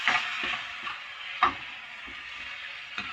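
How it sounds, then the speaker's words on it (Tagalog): Shrimp sautéing in a hot pan for a Filipino mung bean stew, a soft steady sizzle broken by a few sharp clicks and scrapes of stirring, fairly quiet with no talk. "Kailangan natin siyang igisa ng mabuti."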